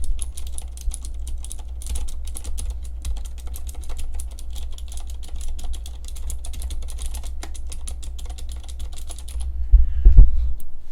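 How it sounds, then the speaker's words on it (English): Rapid, continuous typing on a KUL 87 ES tenkeyless keyboard fitted with clicky Cherry MX Green switches, Vortex PBT keycaps and O-rings, dense even clicks over a low steady hum, ending with a few heavier thumps. "a little bit of a sound sample now so you can hear what it sounds like with the Vortex PBT caps and the O-rings on the board."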